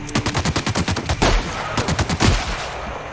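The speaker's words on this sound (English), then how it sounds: "Gotta try out the shotgun." Gunfire from a shotgun in the video game The Outer Worlds: a rapid string of loud, close blasts, followed by a couple of heavier booming shots with ringing tails, no talk.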